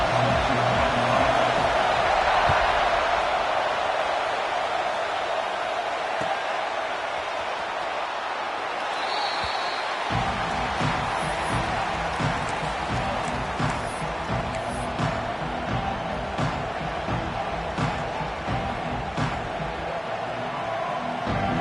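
A large crowd at an NCAA college football game between Clemson and another team roars steadily, a broad, sustained wash of cheering that swells and holds throughout.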